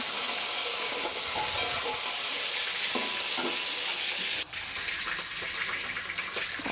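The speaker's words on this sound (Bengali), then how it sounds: "সব চিকেনগুলো আমি দিয়ে দিচ্ছি যে হালকা ফ্রাই হয়ে গেছে" Lightly fried chicken pieces hiss and sputter in oil in a pan for a chicken masala, a steady close sizzle with scattered crackles and a brief clatter partway through, no talking.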